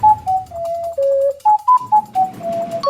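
An ocarina plays a melody as a string of pure, breathy whistling notes, some short and some held, stepping up and down in pitch, played up close with no talk.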